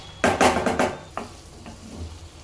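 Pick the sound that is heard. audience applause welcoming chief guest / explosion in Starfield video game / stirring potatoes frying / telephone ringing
stirring potatoes frying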